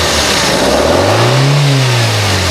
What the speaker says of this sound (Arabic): نقول الاكسلاتير